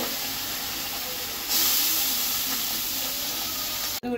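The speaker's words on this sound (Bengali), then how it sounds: "মাছটা প্রথমে ভেজে নিব" Small fish frying in hot oil in a kadai, a steady close hiss of sizzling that grows louder and brighter midway, continuous with no talk.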